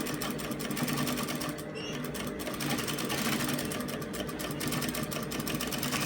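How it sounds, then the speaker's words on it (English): A sewing machine stitches a turtleneck facing along a curve, running steadily and up close with a continuous rapid mechanical whir and clatter, briefly easing near the middle before carrying on. "I'm going to place it under the machine like this. I'm going to stitch that part"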